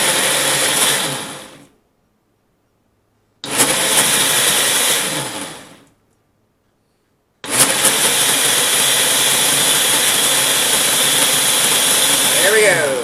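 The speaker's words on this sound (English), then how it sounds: "let me turn on the blender first" A blender whirs loudly in three bursts, two short pulses separated by silence, then a longer continuous high-speed run.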